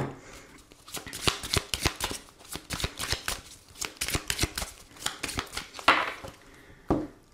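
Oracle cards are shuffled by hand in quick riffling bursts, crisp papery flicks and slaps repeating in irregular clusters, close and fairly loud with no voice over them.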